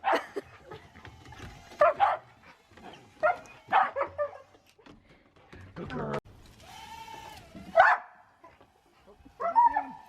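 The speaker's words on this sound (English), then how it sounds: "She's growling at it." A dog at a mountain rental cabin barking in short bursts, mixed with excited human voices and other animal-like calls, fairly close.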